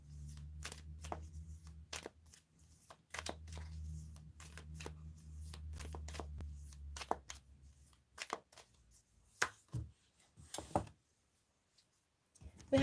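Tarot cards being shuffled by hand, a soft riffling run over a low hum, then a string of sharp separate card slaps and snaps near the microphone, with no talking.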